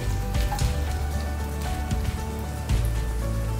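Finely chopped garlic is added to hot oil in a pan and sizzles with a steady, crackling hiss, like rain on a surface, and a few sharper pops along the way.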